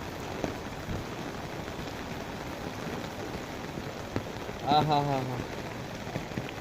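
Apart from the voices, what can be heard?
heavy rain falling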